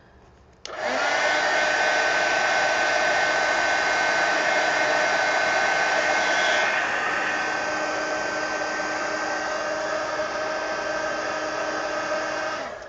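A hair dryer blows steadily on freshly inked mixed media collage art cards, switching on abruptly and running as a loud, continuous close whoosh, its pitch shifting slightly partway through.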